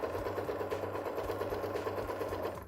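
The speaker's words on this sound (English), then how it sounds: "Now we're going to sew a nice straight line all the way down, 2 mil from that fold seam line." A sewing machine runs a straight line of top stitching 2 mm from a folded seam, whirring in a fast, even rhythm nearby before easing off at the end.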